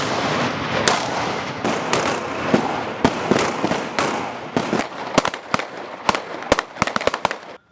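Soldiers fire pistols and automatic weapons at various distances on a shooting range, producing a dense run of sharp, loud cracks and rapid bursts, then spaced single shots toward the end.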